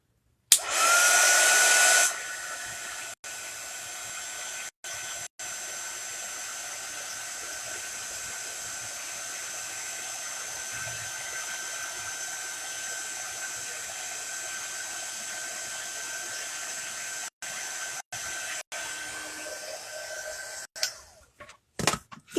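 Heat tool blasting hot air to dry ink on a craft tag, a loud steady whir that starts abruptly and holds nearly unbroken for about twenty seconds with a few brief dropouts before cutting off.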